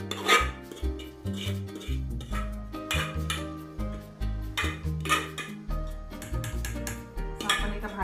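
Thick mashed dal for dal pakvan is ladled from a pot into another vessel. Close metal clinks and scrapes of a spoon against the pots repeat in an uneven rhythm.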